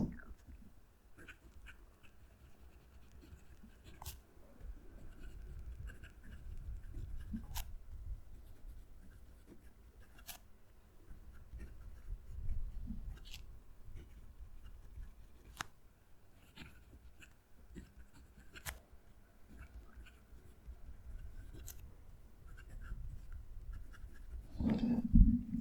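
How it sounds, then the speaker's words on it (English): A Jinhao Shark fountain pen writes on paper close to the microphone, making a soft continuous scratch with occasional sharp ticks. Near the end a low fan hum rises and the sound grows a little louder. "Going to move the mic down to the page so you can hear the pen write."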